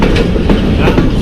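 A Pakistani Mehr Express passenger train rolls past with a loud, steady rumble and faint rhythmic clatter of wheels on the rails, heard close and without any talking.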